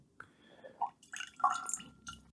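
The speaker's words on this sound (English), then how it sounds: "I'm going to drop a little splash of water in here" A little water is dripped into a glass of James Eadie Miltonduff 9 year old whisky, giving a few small, close plinking drips and splashes.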